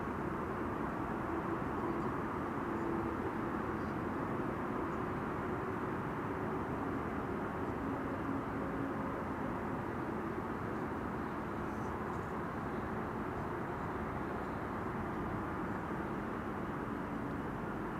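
A Silkway Boeing 747 cargo jet takes off from runway 24 at Amsterdam Schiphol, giving a steady, loud, broad jet roar that holds evenly throughout with no voices.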